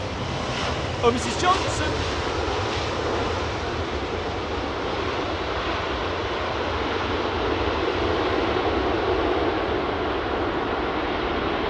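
Three F-15 fighter jets fly over with a broad, rushing roar that builds and swells steadily, far-to-near, while a voice exclaims briefly near the start.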